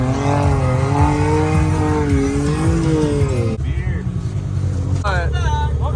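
KTM 300 trike engine on sand dunes, a close, loud two-stroke rev that rises and falls in pitch, drops off briefly and then climbs again, with voices talking over it.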